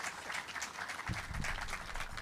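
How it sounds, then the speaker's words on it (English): Audience applause at an outdoor mural dedication honoring Frederick's Black educators, a steady wash of clapping from a crowd that swells slightly halfway through and continues to the end. "can we just give a big round of applause?"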